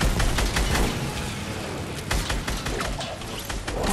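Continuous gunfire and explosions in a Fortnite match, loud and dense throughout with sharp shot transients over a constant roar.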